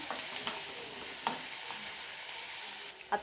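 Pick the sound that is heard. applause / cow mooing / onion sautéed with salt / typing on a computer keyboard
onion sautéed with salt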